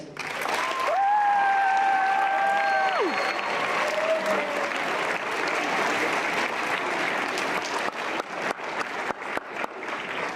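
Audience applause welcoming a speaker, Dr. Nadia Lopez, onto the stage: a steady, dense wash of clapping from a large crowd that holds for about ten seconds, with a few sharp louder claps near the end and a brief tonal sound early on.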